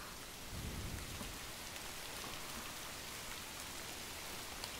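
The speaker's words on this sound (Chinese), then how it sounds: "看下雨了" Steady heavy rain pours in the PS5 game Fatal Frame: Maiden of Black Water, with a low roll of thunder rumbling early on beneath the constant hiss of downpour.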